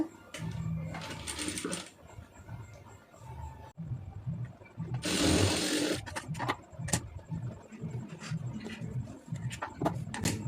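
A sewing machine stitches thread piping onto a sleeve, its needle running in quick mechanical bursts with a steady whirring motor between brief pauses and faint handling clicks.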